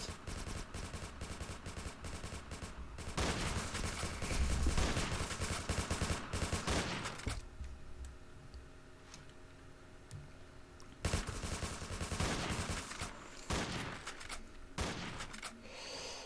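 Rifle fire from a CBRC rifle in a heist video game, firing in loud dense bursts from the start and again near the end, with a quieter stretch of ambient game sound between the volleys.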